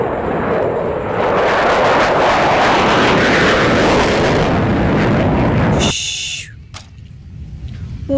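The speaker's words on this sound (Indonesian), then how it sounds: "ini F-15, pesawat tempur" A loud, roaring F-15 fighter jet passes close overhead and sustains a heavy engine rush for about six seconds, then cuts off sharply. Faint, quieter background sounds follow.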